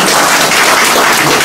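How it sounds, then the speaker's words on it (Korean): A crowd at a city council candidate's campaign office opening in Jecheon breaks into loud, dense applause, a close, continuous roar of clapping filling the whole moment. "큰 박수 부탁드리겠습니다"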